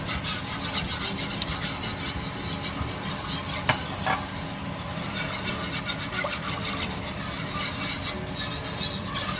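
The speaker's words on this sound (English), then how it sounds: "You want to make sure you're whisking. Get all the clumps out." A whisk scrapes steadily around a pot of cheese sauce for baked mac and cheese, a close, continuous rasping swirl with faint metallic taps against the pan.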